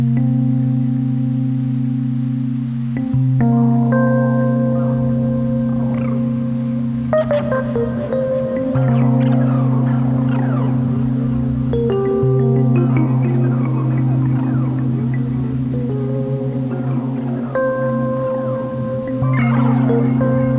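Sustained synth pad tones drenched in modulated tape-style delay from UVI Tape Suite, repeats swelling and ducking in a pumping audio-sidechained rhythm, steady and fairly loud throughout.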